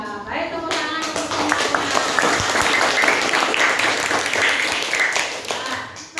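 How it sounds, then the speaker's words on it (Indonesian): A classroom full of students claps together during a lesson observation, a loud and dense burst of hand clapping that swells quickly and holds steady before tapering, with faint voices mixed underneath. "tepuk tangan untuk"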